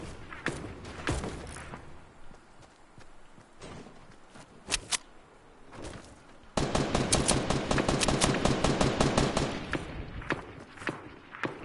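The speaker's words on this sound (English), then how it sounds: "They're shooting at you." Gunfire in the video game Fortnite: scattered single shots and short bursts early on give way to a long, loud stretch of rapid automatic fire, with footstep thuds between volleys.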